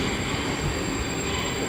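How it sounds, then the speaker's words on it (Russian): A Moscow-2020 metro train on Moscow's Big Circle Line rumbles continuously, with loud, steady running noise and a faint high whine throughout, and no voices. "Суперсовременные поезда Москва-2020."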